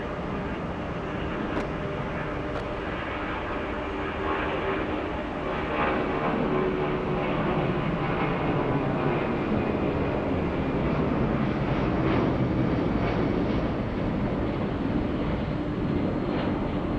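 A tri-jet airliner at Atlanta's Hartsfield-Jackson airport gives off a steady, loud jet engine roar that holds throughout, a broad continuous rumble with no talk over it.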